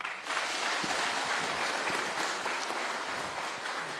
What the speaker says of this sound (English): Kindly let's give our chief guest a better clap.